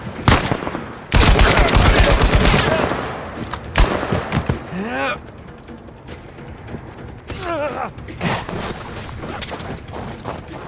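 Gunfire in the video game Uncharted 4 crackles in dense bursts, with a loud volley near the start and sharp shots scattered through the rest. Voices shout over it in places.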